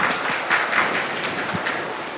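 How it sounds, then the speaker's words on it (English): A brief round of applause from a small audience at a beauty-products talk, scattered claps rising and fading over about two seconds, moderately near. "a round of applause for Surbhi"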